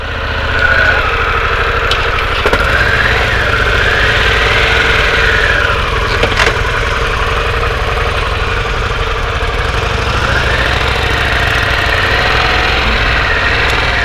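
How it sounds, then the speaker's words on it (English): A 2021 Harley-Davidson Pan America motorcycle engine starts with a quick push-button crank and settles into a loud, steady idle with a low rumble and faint mechanical ticking, running alone throughout. "I think you just press the button and it should start it up for you."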